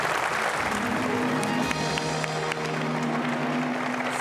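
Steady audience applause fills a Bhojpuri-language quiz show studio, a broad even wash of clapping with faint crowd noise and a low musical tone underneath, sustained throughout.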